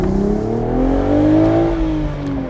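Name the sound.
2025 BMW Z4 manual accelerating out of corners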